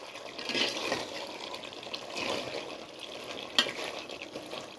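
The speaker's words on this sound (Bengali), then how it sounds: "মাংসটা কষানো হয়ে আসছে নাকি, মাংসটা কষানো হয়ে আসছে।" Duck meat being braised and stirred in a pan, soft wet scraping and bubbling textures, fairly quiet and close, with one sharper clink of a utensil near the end.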